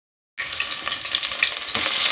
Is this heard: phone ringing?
no